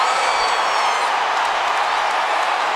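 A large football stadium crowd at a Division II championship game roars and cheers after a turnover, a loud, sustained wash of cheering and clapping from many distant voices filling the whole stretch.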